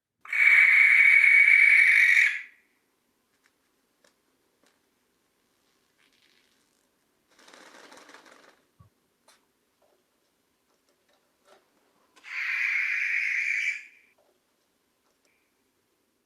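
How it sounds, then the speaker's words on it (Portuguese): A barn owl at night gives two long, harsh screeching calls separated by a quiet stretch, with a faint rustle of wing flaps between them, heard alone against near silence. "Isto é o chamamento que se ouve mais da coruja das torres."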